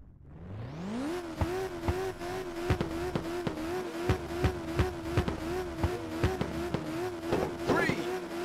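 Race car engines in the video game Ridge Racer 2 at Green Peak Highlands rise from idle into a loud, sustained revving drone, steady and close, with repeated sharp clicks and bursts over it and no speech.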